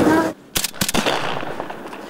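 Gunfire during a military sports game, a quick burst of several sharp close shots after a brief pause, followed by a fading noisy tail, with no clear speech.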